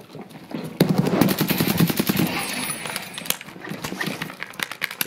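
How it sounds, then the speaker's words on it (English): Rapid automatic gunfire in the video game Escape from Tarkov on the Customs map, with a dense rattling burst from about one to two and a half seconds and scattered shots after it. "he tried to shoot me through the window"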